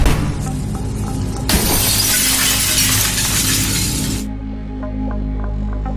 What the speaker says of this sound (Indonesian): Namun tubuhnya terpental hingga menembus kaca.